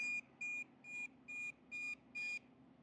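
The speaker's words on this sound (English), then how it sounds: "press, and then press and hold until it beeps" Six short electronic beeps at a steady pitch, evenly spaced with brief gaps, sounding close and fairly faint over a quiet background hum.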